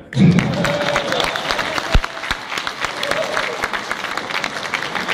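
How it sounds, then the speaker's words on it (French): A church audience at a French-language miracles and testimonies gathering bursts into sustained applause, a dense steady patter of many hands filling the room after a loud opening swell. "On applaudit le gamin"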